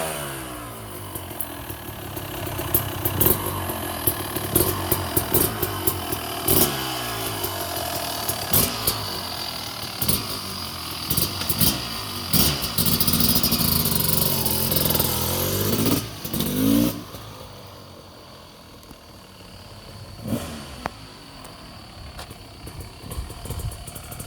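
A 1999 Honda CR250R two-stroke motocross bike engine running close by, a loud raspy buzz with repeated sharp revving bursts that settles to a quieter idle-like drone for the last few seconds.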